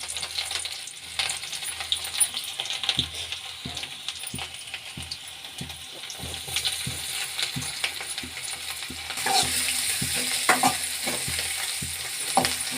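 Ginger and garlic fry in hot oil for a tempering, a steady sizzle with repeated stirring taps and scrapes from the pan, growing louder and brighter toward the end, no talking.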